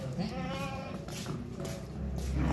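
A plump, healthy male goat at a sacrificial livestock market bleats several times in quick succession, close and fairly loud, with crowd noise around it.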